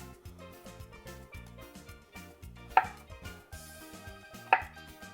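A kitchen knife chops cheesecake ingredients on a board in quick repeated cuts, with two sharper clinks of the blade against the board among the steady chopping.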